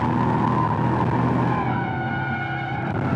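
A new Audi RS3's engine roaring continuously with tyres squealing as it spins pirouettes and skids, loud and close, the pitch shifting as it turns.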